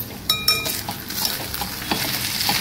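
A spoon stirs jaggery and semolina porridge being sautéed in ghee, giving soft sizzling and scraping with a few sharp clinks of metal against the pan near the start, close and fairly quiet.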